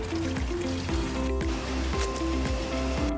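Water pours into an Amaz mini washing machine with a water inlet, filling it as a steady trickling, splashing stream that runs close and continuous throughout.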